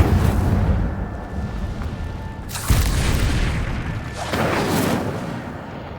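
Hogwarts Legacy's Incendio fire spell cast twice in the video game, each a sudden whooshing burst of flame that swells loudly and then fades, set over a low rumbling background.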